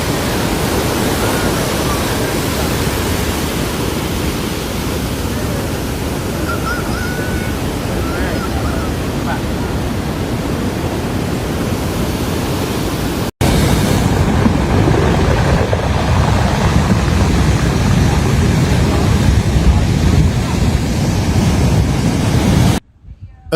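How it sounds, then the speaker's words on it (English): Massive ocean waves crash on the California coast at Rio Del Mar Beach, surging over sea walls. The roar is loud and continuous, a dense wash of surf, with wind buffeting the microphone and a short break partway through. "At Rio Del Mar Beach, the waves crashed over walls, flooding streets"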